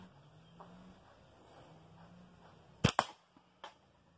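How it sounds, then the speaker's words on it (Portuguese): A short, open-frame slingshot fires its first shot at a target about 10 metres away: a sharp snapping crack followed by a second impact, then a fainter knock, over quiet outdoor background. "Primeiro disparo aí, ó. Sucesso."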